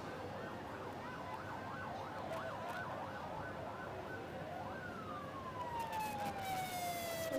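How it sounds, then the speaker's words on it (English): An ambulance siren wails, rising and falling repeatedly in the distance, then shifts to a long falling tone, over low traffic rumble. "We heard an ambulance."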